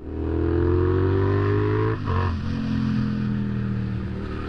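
A motorcycle engine drones loudly and close while riding on a warm October trip to Madara, Bulgaria. Its pitch slides gradually, dips briefly midway, then settles back into a steady hum.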